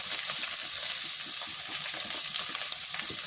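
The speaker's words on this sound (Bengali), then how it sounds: "তেল চাপিয়ে দিয়েছি, সরষের তেল। আর একটা বড় পেঁয়াজ কেটে রেখেছি, পেঁয়াজটা দিয়ে দিলাম।" A large chopped onion hits hot mustard oil in a pan, setting off a steady, close crackling sizzle that holds evenly throughout with no talking.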